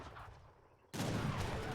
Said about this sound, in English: Now 2 heavy cannons getting into the mix here.